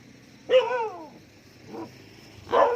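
A dog barks close by, three separate loud barks with pauses between, the first longest and most tonal, with no one speaking.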